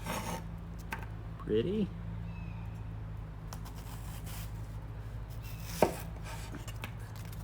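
A knife slices a red onion into large rings on a cutting board, with quiet scraping cuts and a sharper knock near the end, under steady room hum; a voice briefly speaks.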